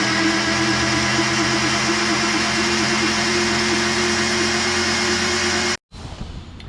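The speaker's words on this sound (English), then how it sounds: "now I'm going to turn it over until some oil pressure comes up" An engine being turned over to build oil pressure, a steady loud whirring drone that holds evenly for several seconds, then cuts off abruptly, leaving faint rustling.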